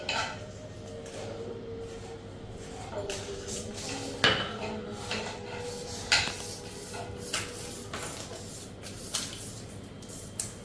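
A glass falls among dishes, pots and pans in a home kitchen, giving several sharp clinks and clatters spread over a steady low background hum, with a faint voice at times.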